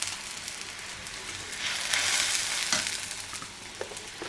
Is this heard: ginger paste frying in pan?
yes